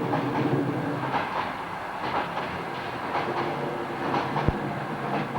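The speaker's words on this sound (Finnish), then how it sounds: "Tämä yöjuna on ihan mukava matkustaa." Night sleeper train with three sleeper cars, two day coaches and a restaurant car rolling along the rails out of Kemijärvi, a steady rumbling ride with rhythmic clickety-clack of wheels over joints and one sharp knock.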